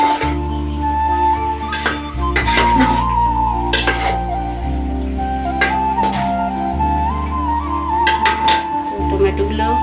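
A utensil stirs cauliflower in a metal pan, making scattered light clinks and scrapes over a steady tonal background hum.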